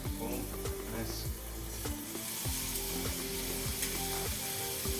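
Seasoned shrimp, seasoned side down in hot oil, sizzle loudly and steadily in a pan with a dense crackling fry and small scraping clicks throughout.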